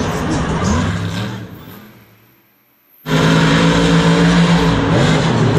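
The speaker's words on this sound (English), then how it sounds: "Oh, he sounds like he's having some transmission issues" Monster truck engine at a Monster Jam stadium event, struggling with transmission trouble: loud roaring revs that fade to near silence, then cut back in abruptly at full, harsh volume.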